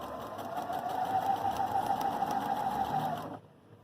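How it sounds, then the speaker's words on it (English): A Viking Opal 650 sewing machine runs a straight stitch on medium woven fabric, a close, steady, rapid whirring hum lasting about three seconds before stopping abruptly. "Now we're going to sew a straight stitch here."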